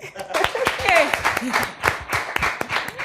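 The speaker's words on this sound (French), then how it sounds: "On applaudit." An audience applauds during a lively stage show. The clapping is quick and scattered and runs throughout, mixed under a prominent voice that keeps talking over it.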